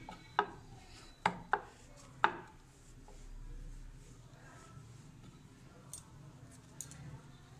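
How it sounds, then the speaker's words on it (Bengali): A knife cuts rested kneaded flour dough into portions for sweet Bengali paratha, giving a few sharp, close chopping knocks on a board early on, followed by quiet kitchen ambience. "10 মিনিট ময়দাটা রাখার পরে আমি এবারে এটাকে নেচি কেটে নেব।"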